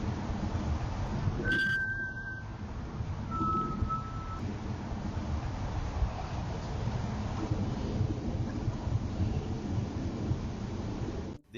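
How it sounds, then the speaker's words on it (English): A sharp whistle picked up by a doorbell camera sounds twice as a thin, steady tone, each lasting under a second, over a constant hiss of wind and background noise. "The same whistle appears again, yet there's still no movement."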